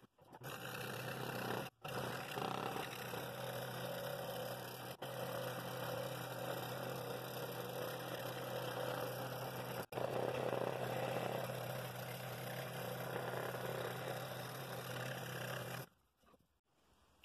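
A scroll saw works slowly through hard wood at a 30-degree angle, giving a faint, steady motorised buzz with a few brief breaks before it stops near the end.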